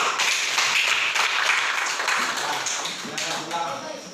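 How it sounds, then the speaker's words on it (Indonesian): Classroom applause for the first student group after its presentation, a dense patter of hand claps running steadily for about four seconds and tapering slightly at the end, with some voices underneath. "Silakan beri tepuk tangan dulu"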